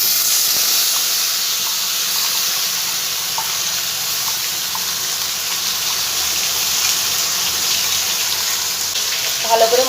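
Ground spice paste for a raw banana kofta curry frying in a pan, giving a loud, steady, close sizzle and hiss that runs unbroken throughout.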